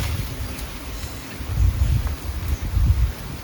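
Strong wind blowing outdoors, a continuous low rushing roar against the microphone that swells into heavier gusts midway and toward the end, with no talking.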